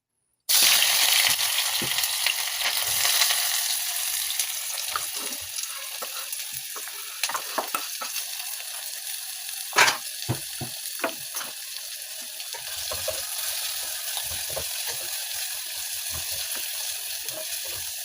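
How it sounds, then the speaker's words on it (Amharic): Chopped red and white onions hit boiling oil in a pot for pumpkin soup, giving a loud, steady sizzle and frying hiss that runs throughout, with occasional stirring clicks and utensil taps. "ዘይታችን ሲፈላ ሽንኩርታችንን እንጨምራለን ማለት ነው።"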